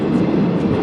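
The 17210 Seshadri Express passenger train rolling between Samalkot and Anaparthi, a loud, close, steady rumble of wheels and carriages with no talk.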